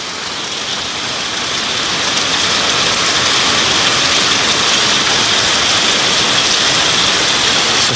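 Heavy thunderstorm rain pours onto surfaces half a metre below in Greater Manchester, a loud, dense, unbroken hiss of spray and drumming that swells slightly in the first seconds and then holds steady.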